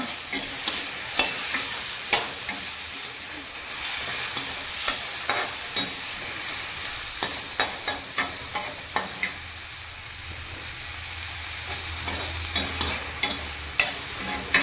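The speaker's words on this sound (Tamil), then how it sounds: "தக்காளி கொஞ்சம் வதங்கணும்" Tomatoes sauté in hot oil for an elephant foot yam curry, giving a steady sizzle with a spoon scraping and stirring in regular close strokes, and no talk.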